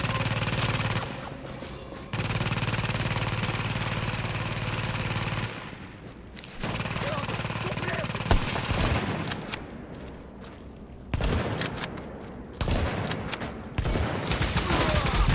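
Automated turret from The Division fires sustained gunfire in a Dark Zone fight, dense rapid bursts running nearly throughout with brief pauses and shifting intensity, loud and close with no talk over it.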